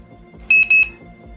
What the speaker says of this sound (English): hold down the set button for 10 seconds until you hear a double beep